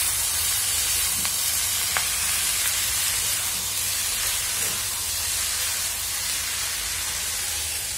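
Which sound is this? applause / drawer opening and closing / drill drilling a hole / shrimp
shrimp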